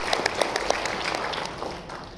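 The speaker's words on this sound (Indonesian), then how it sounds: "Sekali lagi tepuk tangan untuk Atomy." Audience applause for an Atomy sunscreen and body lotion product presentation, a dense patter of many hands clapping at moderate distance that fades gradually toward the end.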